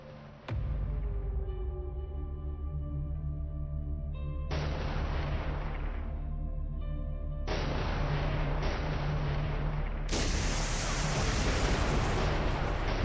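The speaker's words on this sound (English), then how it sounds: "Super Hornets finally get within range for their own weapons, launching dozens of radar homing AARGMs at the S-400" Radar-homing AARGM missiles launch from Super Hornets at an S-400 in a combat video game, a loud stacking series of roaring launch blasts layering into a continuous rumble.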